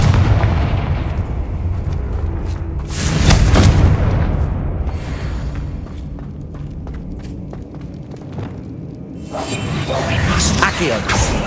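Spell explosions from Confringo and Bombarda in Hogwarts Legacy, loud booming blasts and whooshing bursts rolling through a battle against spiders, with a continuous heavy rumble and a brief lull midway.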